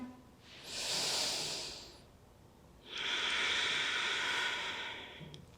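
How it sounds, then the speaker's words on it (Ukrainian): Deep yogic breathing during Surya Namaskar, close and airy: a long inhale followed after a pause by a longer, forceful exhale that pushes all the air out, with no talking. "Робимо дихання, глибоке наше йогівське дихання повним довитисканням повітря."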